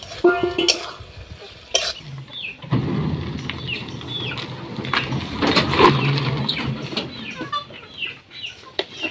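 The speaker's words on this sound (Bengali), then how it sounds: "এরপর আমি পটলটা যে ভেজে রেখেছিলাম সেই পটলটা আমি মশলার মধ্যে দিয়ে দিলাম, দিয়ে আমি আবারও একটু ভালো করে নাড়িয়ে নিব" A spoon scrapes and stirs fried pointed gourd through paneer masala in a pan, with soft sizzling and clattering strokes that come in bursts, close up and with no talking.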